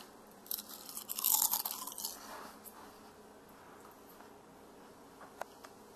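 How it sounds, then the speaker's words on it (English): A crispy baked kale chip crunched up close, giving one brittle, crackling burst lasting a second or two before fading into quiet room tone with a faint tick near the end. "I would like to show you the noise that a kale chip makes"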